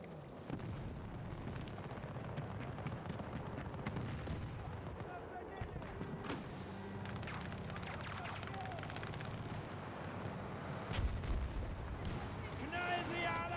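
Battlefield 2042 combat with distant artillery booms and bursts of gunfire rolling under a dense battlefield din, some heavier blasts near the end, with voices of soldiers heard in the mix.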